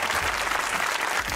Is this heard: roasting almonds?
no